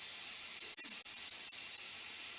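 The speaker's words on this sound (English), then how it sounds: "Once the whistle comes in, it's boiling, but you hear that." A pressure cooker boiling pumpkin curry releases steam in a steady, faint hiss with a few brief sharp pulses, heard alone without talk.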